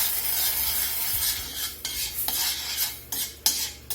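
Brandy deglazing a steak pan for steak au poivre sauce, a soft sizzle with the fond being scraped loose by a utensil, several sharp metallic scrapes and clinks toward the end.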